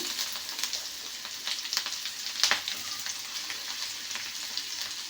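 Chopped onion frying in oil with mustard seeds for a bitter gourd fry makes a steady, close sizzle with scattered sharp crackles and pops.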